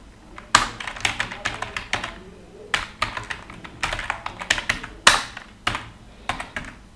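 Fast bursts of keystrokes on a computer keyboard as HTML code is typed, close and crisp, arriving in uneven clusters with short pauses between them and no voices.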